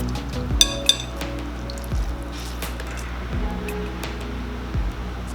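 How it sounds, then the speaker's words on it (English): Shredded daikon and carrot squeezed by hand in a colander give soft wet squishes and dripping water, with a couple of sharp clinks early on, close and fairly quiet. "Place in a colander and squeeze to remove as much moisture as"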